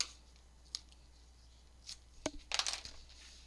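Double-sided tape is handled in a quiet room, giving a few faint, sparse crinkles, clicks and rustles separated by stretches of near silence.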